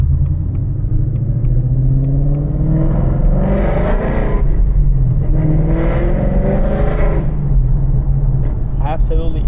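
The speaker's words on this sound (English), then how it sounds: "Absolutely insane how loud this thing is." A Ford Mustang S650 fitted with longtube headers rumbles loudly and continuously at close range, its deep exhaust drone rising and falling through several throttle swells while a voice talks over it.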